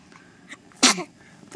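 A newborn baby in a hospital gives a quick, close sneeze, a sharp burst of breath, followed by a second short burst at the end amid quiet room noise.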